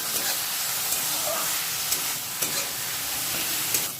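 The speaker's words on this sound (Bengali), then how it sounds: "পেঁয়াজ লঙ্কা এটাকে একটু নাড়বো ভালো করে।" Chopped onion and chili fry in hot oil in a wok, making a loud, continuous sizzle and hiss close up, with a few sharp clicks from stirring.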